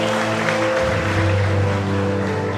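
A church congregation applauds for Jesus at a revival service, a dense, continuous wash of clapping over sustained keyboard or organ tones and a low hum, steady and fairly loud throughout.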